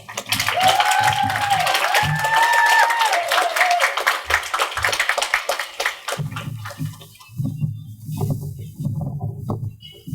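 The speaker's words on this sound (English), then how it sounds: "one more round of applause for being the first poet up here" Audience applause at a high school poetry slam for the first poet, dense broadband clapping for about six seconds with whoops, then fading into murmuring crowd noise and low voices.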